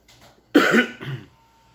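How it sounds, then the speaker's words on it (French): A man gives a single sharp cough followed by a shorter second burst, close and fairly loud in a quiet room, with faint murmurs just before. "j'ai une petite toux"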